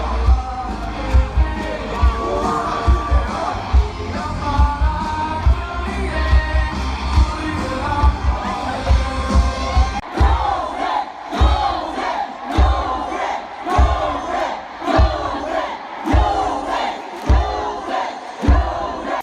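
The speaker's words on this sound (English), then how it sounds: "I was not prepared for the type of cheering that was about to go down" A dense, roaring crowd cheers at the YonKo games, the Korean university sports rivalry, with loud rhythmic chanting and sharp yells pulsing steadily throughout, growing more punchy and beat-driven in the second half.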